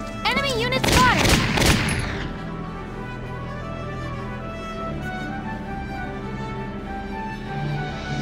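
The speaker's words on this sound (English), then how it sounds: "Enemy units fired!" Enemy units in Valkyria Chronicles open fire with a rapid burst of shots in the first two seconds, followed by a low steady hum with no further shooting.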